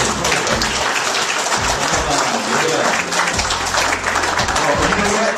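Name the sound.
audience applause for DJ John Leslie Gracias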